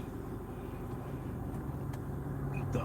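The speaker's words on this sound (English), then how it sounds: "The ocean of cars coming up the street this way." Many cars come up a city street, producing a steady low traffic rumble that stays fairly faint and even throughout.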